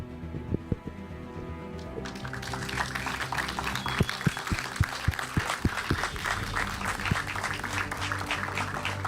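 Crowd applause at an esports medal ceremony for a bronze winner, a steady wash of clapping from a large audience that swells in after a quieter opening and continues to the end.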